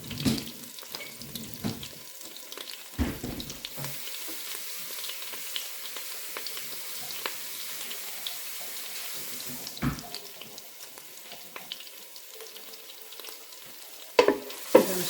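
Garlic cooks in unsalted butter inside a Ninja Speedi, giving a steady low sizzle with occasional louder clatters of a utensil stirring the pot.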